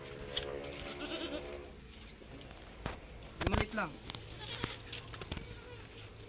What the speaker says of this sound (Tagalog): Pakita mo natin mga kambing guys.